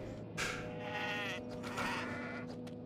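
Goat bleats in the game Kenshi, two wavering calls with a pause between them, set over a steady low game hum with no talking.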